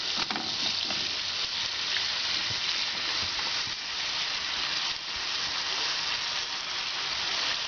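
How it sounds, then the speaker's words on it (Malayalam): Chopped lime dropped into a frying spice mix for Kerala lime pickle, giving a steady, close sizzle and hiss that runs throughout with faint stirring. "അപ്പോൾ അതിലേക്ക് നമുക്ക് അരിഞ്ഞു വെച്ചിരിക്കുന്ന നാരങ്ങ ഇടാം."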